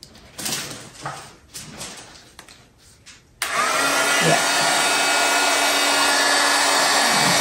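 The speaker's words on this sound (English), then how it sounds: "Hit my heat gun." A heat gun used to warm the edges of a resin splash piece kicks on after some quiet shuffling and handling noises, then runs as a loud, steady blowing hiss until the end.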